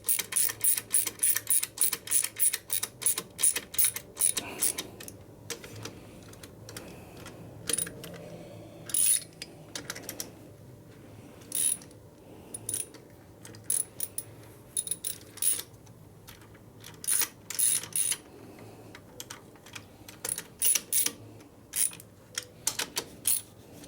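Bolts being fitted into a generator on a 1972 Harley-Davidson Ironhead Sportster XLCH engine during a rebuild, heard as rapid bursts of metallic clicking and rattling that stop and start in clusters, close by and with no talk.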